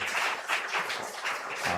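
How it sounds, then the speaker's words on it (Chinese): At a Taiwanese-language Sunday church service, a congregation applauds a youth choir. The clapping is continuous and dense, with a gently pulsing swell and no talk over it. "这些青年给他们一个掌声啊"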